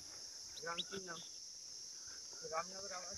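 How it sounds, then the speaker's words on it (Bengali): Crickets chirp in a constant high shrill drone beside a crab pond on the edge of the Sundarbans mangroves, steady and faint beneath brief stretches of a nearby voice. "আর সাইডে সাইডে ঝিঝি পোকা"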